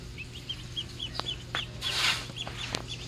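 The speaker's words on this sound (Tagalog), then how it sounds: "53 na sisiw yan, bago." A brood of 53 newly hatched chicks peeps in a small home farm setting, with repeated high, thin cheeps coming close and steady, mixed with some rustling and a low background hum.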